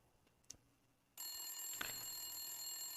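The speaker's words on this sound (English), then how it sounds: "another ringtone from a telephone" A telephone rings in a video game, a bright, sustained electronic bell that cuts in abruptly after a quiet start with a faint tap, then continues steady and clear to the end.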